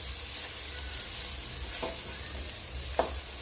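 Crushed ginger and garlic fry with browned onion in a pan, a soft steady sizzle with a couple of faint stirring scrapes.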